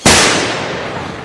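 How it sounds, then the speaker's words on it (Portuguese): A single loud gunshot bursts out sharply and then trails off into a long, broad rumbling decay, close and alone, with no voices during it. "Esses tiros, os portugueses estão a chegar."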